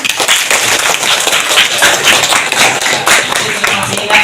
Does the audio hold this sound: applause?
yes